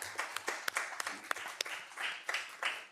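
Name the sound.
round of applause at town council meeting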